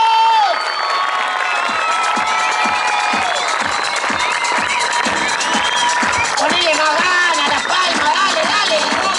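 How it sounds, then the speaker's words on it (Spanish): Loud live crowd at a Mar del Plata comedy show erupts in sustained applause, cheering, shouting and whistles, rhythmic clapping pulsing through a steady roar for several seconds, with voices shouting over it. "Aplauso, gritos, silbidos."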